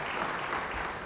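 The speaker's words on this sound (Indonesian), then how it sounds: "Yang percaya, beri tepuk tangan bagi dia." Congregation in a church clapping together, a dense steady wash of applause filling the room for about a second.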